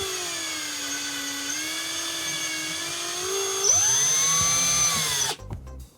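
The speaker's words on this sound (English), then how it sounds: "I actually do want to drill out the hole in the middle that will accommodate the peg on the waist unit." A small rotary drill whines steadily while boring a hole in a styrene Gundam MG Gouf Custom torso part, its pitch rising briefly under load before it stops abruptly.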